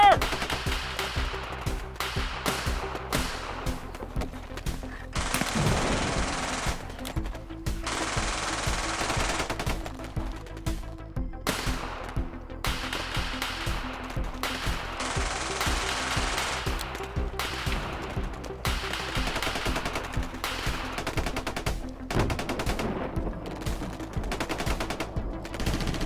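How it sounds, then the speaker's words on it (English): Action-movie gunfire with machine guns firing in a post-apocalyptic commando battle against sharks, long dense rapid bursts over steady battle noise for the whole stretch, loud and relentless, with occasional shouted voices mixed in. "We're under heavy fire!"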